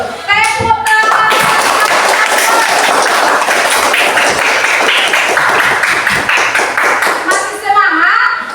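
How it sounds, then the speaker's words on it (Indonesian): A classroom of pupils claps hands together in a dense, sustained burst of applause lasting several seconds, with voices talking briefly before and after. "Tepuk tangan."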